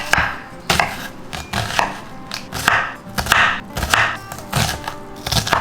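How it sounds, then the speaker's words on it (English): Half a white onion is sliced with a knife, giving a steady run of quick, close chopping taps on a board with faint clattering between strokes and no voices. "All we gotta do now is slice half a white onion."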